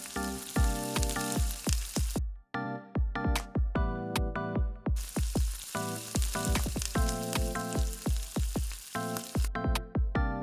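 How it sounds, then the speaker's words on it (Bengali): Chicken pieces for a wedding-style roast frying in the same oil used for browning onions, heard as loud, close bursts of sizzling crackle in rapid repeated pulses, with brief gaps and no talking. "যে তেলে পেঁয়াজের বেরেস্তাটা করেছি সে একই তেলে আমি চিকেনটাকেও ভেজে নিব।"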